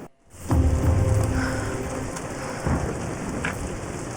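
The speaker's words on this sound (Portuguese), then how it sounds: "We're getting closer to the storm." A thunderstorm in the game Tomb Raider: a loud rumble of thunder breaks in after a brief hush, over steady, dense rainfall that keeps pattering throughout, with a second, softer roll of thunder later on.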